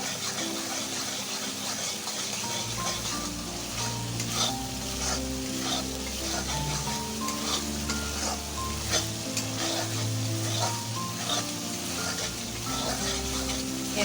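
Spice paste for chilli paneer cooks down in oil that is starting to separate, loud steady sizzling with constant stirring and scraping of a spatula across the pan, close and continuous, with no voices.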